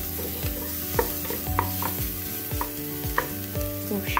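Chopped garlic and onion frying in olive oil in a pan while a chicken pancake filling is prepared, giving a steady close sizzle with repeated spoon stirring scrapes and clinks throughout, no talking.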